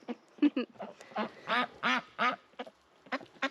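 Ducks quack close by in a lively series of short, nasal calls, several in quick succession with brief pauses.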